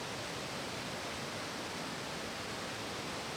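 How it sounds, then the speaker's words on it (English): Stream water at Fiumelatte on Lake Como, emerging from a cave and plunging downhill, gives a steady, dense rushing hiss with no breaks and no voices, fairly faint. "they can sleep with the sound of the water"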